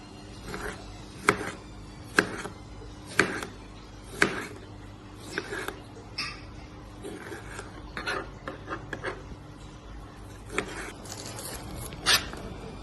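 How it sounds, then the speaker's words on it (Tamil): Knife chopping tomatoes and onions into small pieces on a board, a fairly regular run of sharp, close taps roughly once a second, with lighter scraping between the strokes. "இப்போ நம்ம தக்காளி வெங்காயத்தை சின்ன சின்னதாக கட் பண்ணி எடுத்துக்கிறோம்."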